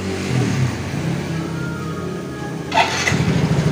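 A Yamaha X-Ride motorcycle with the 54P engine starts up and then settles into a steady idle. A loud, close mechanical drone carries on throughout, with a brief burst as the engine catches near the end.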